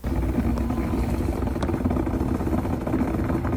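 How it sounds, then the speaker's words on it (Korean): A continuous bubbling, boiling-water-like hiss from a Tesla battery before a thermal-runaway fire, steady and fairly loud throughout, with no voices. "이렇게 물 끓는 소리가 들렸다고 해요"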